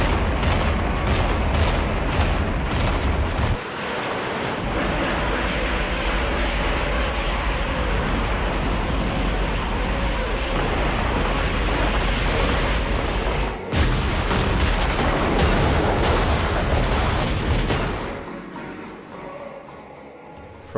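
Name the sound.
artillery firing on a village in video game Mius Front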